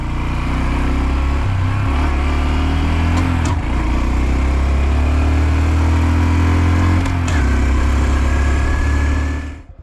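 Engine of a 2025 Honda Dax 125 motorcycle, loud and close, its pitch stepping up and down as the rider shifts through the gears, with a brief dip around each shift.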